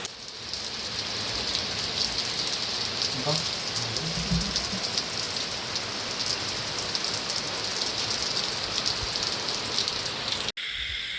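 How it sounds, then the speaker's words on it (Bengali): Heavy monsoon rain pours steadily in a flooded village at night, a dense, loud, continuous hiss of water on surfaces with no let-up, cut off abruptly at the very end. "এই অসময় নিম্নচাপ আর এত বৃষ্টি হচ্ছে আর চারিদিকে জল উঠেছে মাঠে বেশ"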